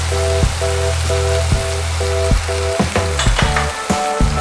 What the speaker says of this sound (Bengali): এখানে যে তেলটা থাকছে তার ভিতর আমি এই গোটা কয়েকটা রসুনের কোয়া দিয়ে দেবো